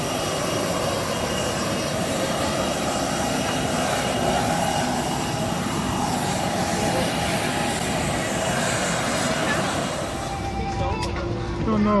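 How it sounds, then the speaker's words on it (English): Cold air rushes from the vents inside an airplane cabin as a steady, broadband roar with an engine-like drone beneath it, continuous and close, fading slightly near the end. "there's a lot of steam, cold air blowing out of the vents"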